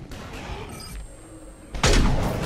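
Gunfire in Mass Effect 3 during a battle on Earth: a low, quiet stretch gives way to a sudden loud burst of heavy weapon fire in the last second, sustained and close.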